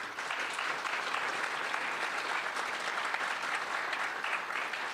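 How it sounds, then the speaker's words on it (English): Steady applause from the audience at a bipartisan community forum, a continuous wash of many hands clapping at moderate volume for the whole span. "Give her a round of applause, please."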